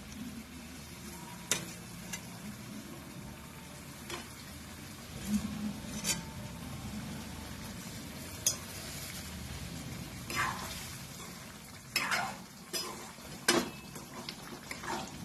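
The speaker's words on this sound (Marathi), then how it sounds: "आता मी हा गॅस बंद करते आणि हे कोफ्ते याच्यामध्ये घालते." Spinach koftas stirred into gravy in a pan make a soft background simmer, with scattered spoon clinks and scrapes against the pan at irregular intervals.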